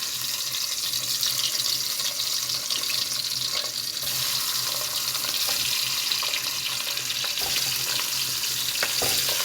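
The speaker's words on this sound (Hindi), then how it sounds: "जैसे ही हमारा ये तेल थोड़ा सा गर्म होता है तो हम ये अंडे इसके अंदर डाल देते हैं" Eggs fry in hot oil in a pan for a spinach and egg curry. A loud, steady hiss runs throughout, with occasional small pops and crackles, and no speech is heard.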